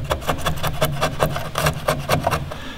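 A hand-worked chisel shaves wood while a compost toilet door is fitted in a tiny house. Quick, close scraping strokes repeat in a fairly even rhythm, several each second.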